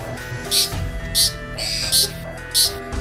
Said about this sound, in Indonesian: suara burung cendet juga dapat menjadi pertanda adanya makhluk halus